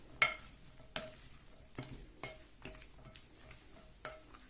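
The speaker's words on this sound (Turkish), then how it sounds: "Şöyle karıştıracağız." A spoon stirs Turkish bean salad (fasulye piyazı) in a bowl, giving about six soft, sharp clinks against the bowl with wet mixing sounds between them, close and quiet.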